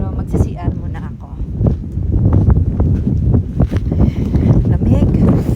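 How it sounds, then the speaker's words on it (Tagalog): Strong gusts on Mount Pinatubo roar against the microphone with a continuous low buffeting, while voices speak now and then over the noise. "Ay, lakas ng hangin."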